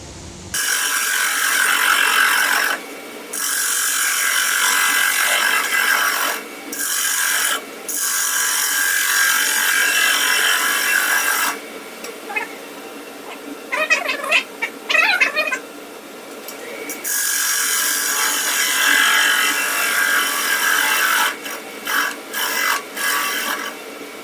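A wood lathe spinning while a tool flattens the end grain of a workpiece, a steady mechanical whir broken by several short pauses and a stretch of rougher, scratchy cutting in the middle.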